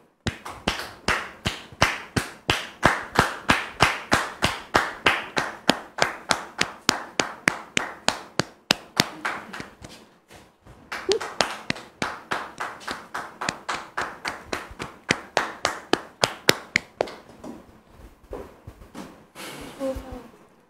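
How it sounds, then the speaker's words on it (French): A studio audience claps for a guest invited onto a French talk show, rhythmic and fairly close, with a brief lull near the middle before the clapping picks up again and then fades out. "Sous vos applaudissements, s'il vous plaît."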